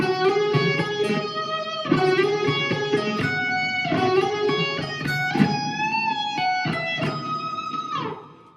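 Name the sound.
electric guitar on bridge pickup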